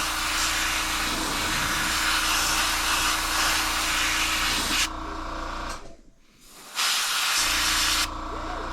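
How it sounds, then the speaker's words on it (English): A steady, loud hiss of dark spray paint onto a crankbait fishing lure, briefly cutting out before resuming, with a low motor hum underneath. "So I am going to spray it very, very dark."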